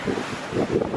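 Choppy open-ocean waves and gusting wind at sea aboard the Disney Magic cruise ship, captured from an open veranda: a steady broadband rush of wind buffeting the microphone with surging swells of surf, loud and continuous throughout with no talking.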